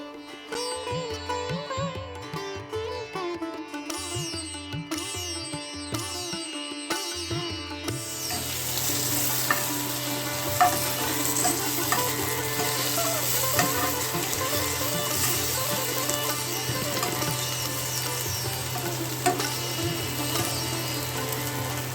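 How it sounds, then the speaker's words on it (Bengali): Potatoes fry in oil with green chili and nigella seeds for a Bengali pabda fish curry with potato and eggplant. After a quieter opening with clinks and tonal sounds, a loud, steady, dense sizzle takes over and runs continuously to the end. "কাঁচা লঙ্কা কালো জিরে দিয়ে একটু ভেজে আলুগুলো দিয়ে দেবো"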